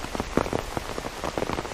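Heavy rain pours steadily in Mooresville, North Carolina near Lake Norman, a dense, close drumming of drops on surfaces with no break.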